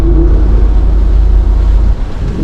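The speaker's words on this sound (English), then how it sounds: "the 392 Wrangler, the way it just powers through deep water and mud." A Jeep Wrangler 392 ploughs through deep water and mud, a heavy, loud low rumble with sloshing water and a wind-like roar that stays steady, then eases slightly near the end.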